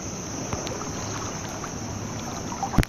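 A steady motor drone of a small boat on water at night with a high whine and wind rushing past, broken by a few faint knocks and a splash-like thump.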